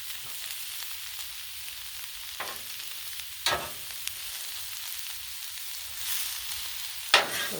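Kielbasa frying on a Blackstone flat top griddle, a faint steady sizzle broken by a few sharp scraping stirs of a spatula across the metal.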